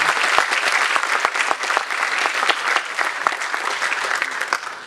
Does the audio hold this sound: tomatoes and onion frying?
no